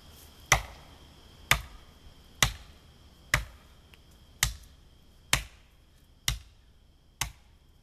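A Bowie knife chopping a hornbeam handle: eight sharp, evenly spaced chops, each with a short ringing decay, close and clear over quiet background hiss.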